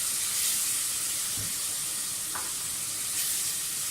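Tomatoes sizzle and fry in a pan of chicken kabab masala gravy, a steady, close hiss with no talk throughout.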